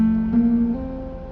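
Short fingerpicked guitar phrase with a hammer-on from a lesson, a few soft plucked notes ringing close and quiet.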